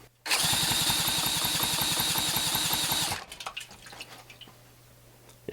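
A two-stroke Johnson outboard engine at wide open throttle gives a loud, steady buzzing drone with rapid even pulsing, then cuts off abruptly, leaving quieter scattered knocks and clicks.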